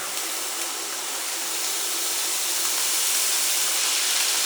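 Butter hitting a hot pan of searing steaks, a loud steady broadband sizzle and hiss that swells slightly over a few seconds, close up and alone without talk.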